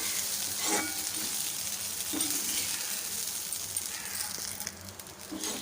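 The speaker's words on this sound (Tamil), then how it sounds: "அவல் இப்போ போட்டிருக்கோம் அதனால் இன்னும் ஒரு ஒரு நிமிஷம் சேர்த்துட்டு ஒரு தடவை கலந்து விட்டால் போதும்" Flattened rice flakes (poha) with peanuts and grated coconut fry in a pan, a steady close sizzle broken by a few scraping stirs and light metallic clinks of the spoon, with no talking.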